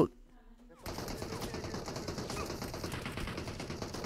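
Rapid bursts of automatic gunfire in the mobile battle royale game BGMI, starting abruptly after a near-silent moment and continuing as dense, loud, rattling shots with a busy mix of game noise.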